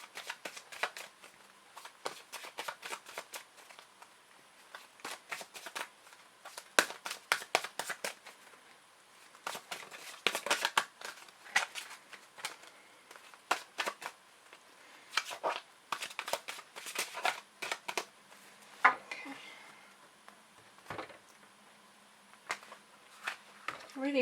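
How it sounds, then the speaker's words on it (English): Tarot cards are fanned and spread across a table in a long run of quick, crisp slides and flicks, scattered in uneven bursts with short pauses, with a person talking quietly in between. "Really hard to spread the cards today."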